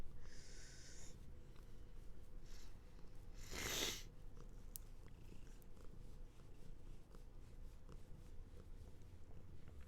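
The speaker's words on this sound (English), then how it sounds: "She's purring like crazy right now." A contented cat purring steadily and low at close range, with a soft snort or sniff partway through, no talking.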